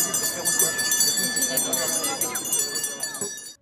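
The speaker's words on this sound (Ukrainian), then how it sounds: "Сьогодні перший дзвоник пролунав для 310 першокласників Хмельницького НВО номер 28." A school's first bell rings on the opening day of the school year at a Khmelnytskyi school, a steady bright metallic ringing that sustains for about three seconds under crowd noise and voices, then cuts off.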